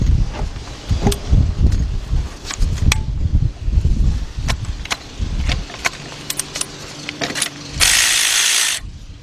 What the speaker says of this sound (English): Right here where my ratchet is.